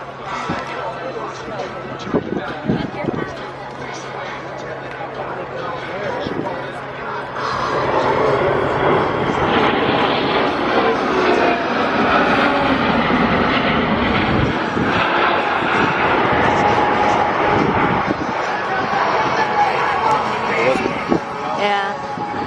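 A large airplane flies over an air show, its engine roar swelling from a distant drone into a loud, sustained rumble that fills most of the span, with people talking and a narrator's amplified voice beneath.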